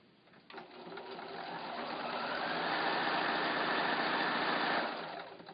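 Sewing machine chain piecing windmill quilt blocks runs in one continuous, steady whir of about four seconds, ramping up and holding an even, close, buzzing stitch rhythm before stopping.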